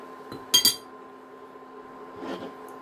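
Small metal measuring spoons clink together in two quick close bright bursts, followed by a softer rattle a moment later, over a quiet background.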